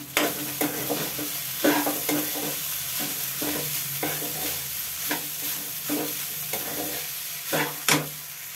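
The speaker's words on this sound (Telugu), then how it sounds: "ఇప్పుడు రైస్ వేసేసుకుందాం. కలుపుకుందాం." A spoon turns cooked rice through Andhra-style raw mango pulihora with cashews and big green chillies in a pan, making close, repeated scraping strokes in an uneven rhythm over a low sizzle.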